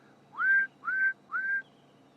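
A scimitarbill calling on a morning safari drive in the African bush: three clear, rising whistled notes evenly spaced, soft and somewhat distant against a quiet background.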